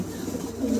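Pigeons cooing in a pigeon seller's loft of high-quality breeding birds, a low steady murmur of coos that swells slightly toward the end, close and moderately loud.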